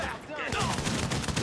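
A close-range explosion in a video game: a sharp burst of blasts and rapid gunfire rattling in quick succession, loud and near, with a voice partly audible under the noise.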